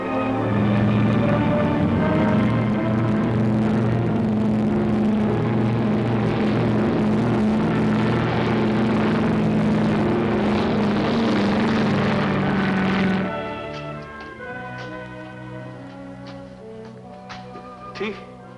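Aircraft engines of an old propeller plane run with a steady loud droning hum that later drops to a lower, quieter level, with a voice briefly heard over it.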